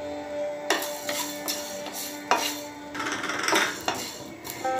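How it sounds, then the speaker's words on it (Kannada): Coriander seeds dropped into hot oil in a pan with a metal spoon clinking against it, several sharp clatters and scrapes spread over a few seconds with faint sizzling between them, no voices. "ನಾನಿಲ್ಲಿ ಧನಿಯ ಹಾಕ್ತಾ ಇದ್ದೀನಿ."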